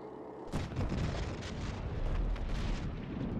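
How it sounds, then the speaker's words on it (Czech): Bombardment explosions in the video game Medal of Honor: Warfighter rumble continuously, dense, heavy booms and bursts rolling together at a loud level with no talk over them. "teď bude bombardace"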